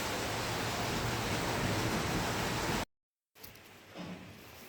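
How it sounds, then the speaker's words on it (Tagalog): Heavy rain from a hail storm roars steadily outside in Lakatamia, Cyprus, a dense hiss that cuts off abruptly, then returns much quieter and more muffled. "Ang lakas ng ulan, doon sa labas guys."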